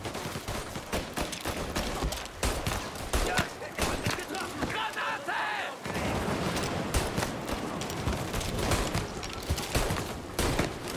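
Rapid, dense gunfire in a video game (Mafia: Definitive Edition) crackles almost continuously, with a short lull midway before the shooting resumes just as heavily.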